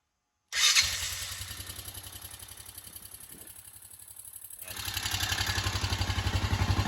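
A Honda motorcycle fitted for a winch fires up after a moment of silence, then settles into a loud, close, pulsing idle that dips briefly before revving up again into a steady throbbing beat.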